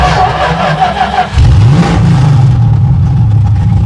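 A Dodge Dart's Mopar 340 engine cranks, then catches and fires up, rising into a loud rev before settling into a steady, close-up idle.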